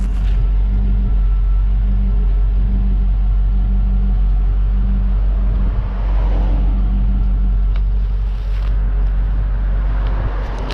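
A Chevrolet LT1 V8 idles steadily after a cracked rear spark plug was replaced, giving a continuous low rumble with a deep, even drone, loud and close, with no talk over it.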